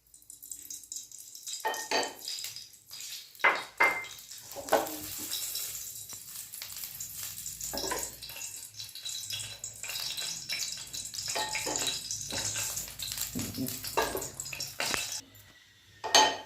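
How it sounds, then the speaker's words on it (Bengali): Fortune sunflower oil poured into a hot wok on the stove: a steady sizzle and bubbling fry rising and falling for the whole stretch, close by, with a few clanks of metal against the pan and no talking. "কড়াই খুব ভালোভাবে গরম হয়ে গেছে কড়াইতে দিলাম ফরচুনের সানফ্লাওয়ার তেল"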